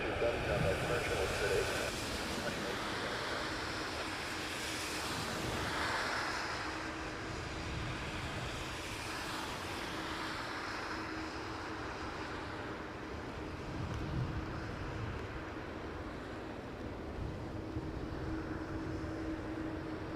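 A Boeing 787-8 airliner lines up for departure at Toronto Pearson Airport. Its engines give a steady, broad roar that holds for the whole stretch, with no clear talk over it.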